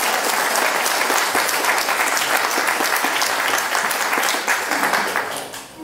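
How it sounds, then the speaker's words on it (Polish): A concert audience applauds after a song, loud and close, with dense rapid clapping that holds steady before tapering off toward the end. "Teraz na zakończenie poproszę mnie o brawa."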